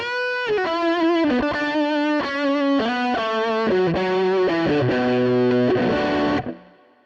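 An electric guitar plays through a Nux MG-300 multi-effects unit with tape echo and spring reverb, a run of distinct melodic notes with repeats, then a reverb tail that fades out when the playing stops.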